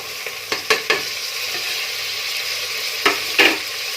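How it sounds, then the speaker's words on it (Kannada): Tomatoes frying with onions in a pan give a steady, loud sizzle, broken by a few sharp clacks of a spoon stirring against the pan. "ಈಗ ಇದನ್ನು ಕೂಡ ಸ್ವಲ್ಪ ಫ್ರೈ ಮಾಡಿ."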